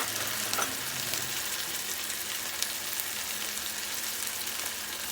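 Ginger-garlic paste sizzles steadily in a hot pan while chicken is cooked, a continuous close hiss with a few faint clinks and no voices.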